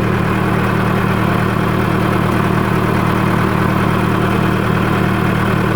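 A tractor engine runs steadily with the PTO engaged to drive an MS T 300 sprayer, a loud, constant mid-to-low drone with vibration and no pauses, close by.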